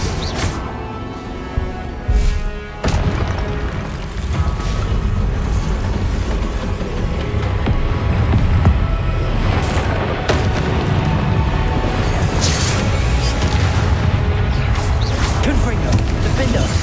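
Spell blasts from Confringo and Incendio in the Hogwarts Legacy video game, a dense run of booming, crashing impacts that swell into a continuous loud rumble with bursts piling over one another.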